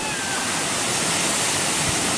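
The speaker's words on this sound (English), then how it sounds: "Here's a waterfall." Waterfall at Calf Creek pouring steadily, a loud, dense broadband rush of falling water close by that fills the whole clip without a break.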